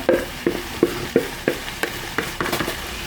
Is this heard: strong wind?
no